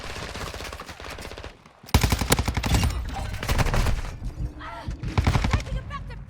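Sustained automatic gunfire in a military shooter game, loud bursts of machine-gun fire running nearly continuously, with a short lull before an even denser barrage and radio-style voices briefly mixed in.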